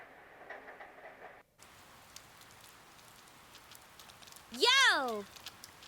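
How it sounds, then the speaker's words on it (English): Soft, steady rain in the video game Persona 4 Golden, a faint continuous hiss that runs throughout, broken briefly by a bright tonal sound near the end. "The rain doesn't seem to be letting up this morning."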